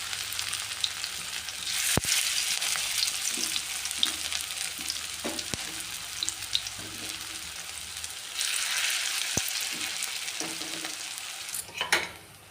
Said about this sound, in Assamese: জুইটো কমাই ভাজিব লাগে,